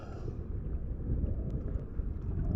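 Strong wind buffets a microphone with a continuous low rumble, steady and fairly loud, with faint scattered ticks above it.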